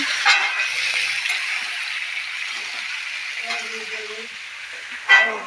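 A vegetable curry sizzles steadily in a pan as a soft continuous frying hiss, with a few light clinks and faint voices in the background.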